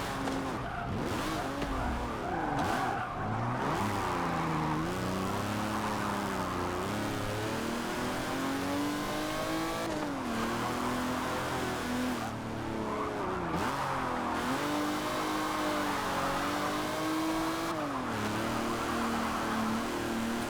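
Race cars corner hard through a set of tight turns in the Forza Motorsport 7 racing game, engines rising and falling steadily with tire squeal and skidding, loud and continuous throughout with no talk.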